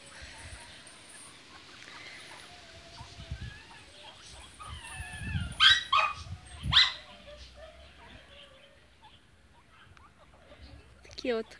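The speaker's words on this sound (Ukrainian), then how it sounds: "Там пси гавкають." Pekingese dogs bark outdoors in a few sharp, moderately close bursts clustered mid-way, with quieter yaps and whimpers around them over faint background ambience.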